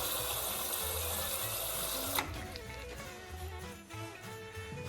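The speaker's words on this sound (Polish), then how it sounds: "nasze konie mają wodę z automatycznych poideł" Water rushing from an automatic horse drinker in a brick stable, a steady hissing flow that cuts off after about two seconds, leaving quieter trickling and faint stable sounds.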